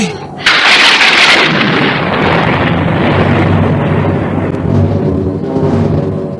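Thunderstorm effect in an Indonesian audio drama about a boat at sea: a loud thunderclap cracks open and rolls into a long, heavy rumble under roaring wind and rain.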